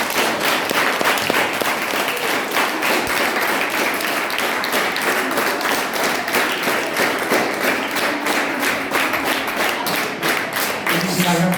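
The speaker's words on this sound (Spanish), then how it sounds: "Qué mejor manera que hacerlo con María Ángel y dándole un fuerte aplauso" A crowd at a primary school event in Andalusia gives loud, sustained applause, dense clapping that holds steady for about twelve seconds with some voices and cheers mixed in.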